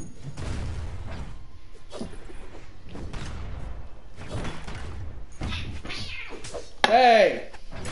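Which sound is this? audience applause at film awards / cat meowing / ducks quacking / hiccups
cat meowing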